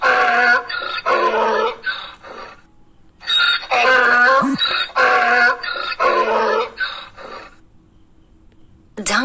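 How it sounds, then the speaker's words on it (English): Donkey braying as a dense, loud, harsh run of repeated heehaw cycles filling most of the clip, rising and falling in a steady rhythm, in an animal sounds for children sequence. "Donkey. Donkey."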